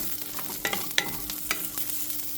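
Chilies roasting in a pan with a low, steady sizzle and a few sharp scraping stirs of a spatula, close and without voices.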